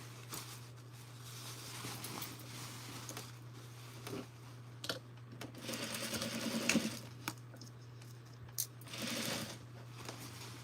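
A sewing machine runs stitching a trouser inseam, a faint steady whir broken by short bursts and clicks, with no voices.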